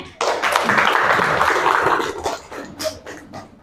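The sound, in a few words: audience applause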